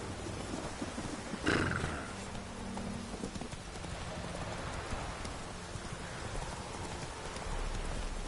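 Roach the horse from the video game Witcher 3 moves through rain, with a whinny and hoof clip-clops under a steady patter of falling rain, moderately close.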